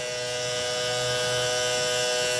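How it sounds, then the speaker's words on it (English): Homemade electric diesel fuel pump running steadily, a loud continuous close-up buzzing whine with a constant pitch and no breaks, no talking over it. "it's pumping diesel fairly nice with this pump"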